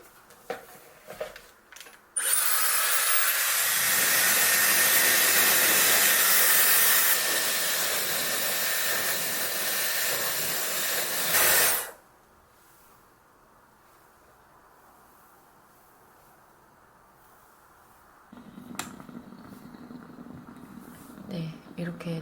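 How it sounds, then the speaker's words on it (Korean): A Dyson Airwrap hair styler blows loudly for about ten seconds drying hair, a steady rushing roar that cuts off abruptly, with quieter handling noises before and after. "이렇게 대충 머리를 말렸고요"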